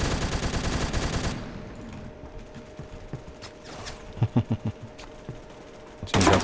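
Automatic gunfire in a Roblox Phantom Forces first-person shooter match: a sustained rapid burst up front, then scattered thumping single shots and a few quick clustered shots, ending with another loud burst.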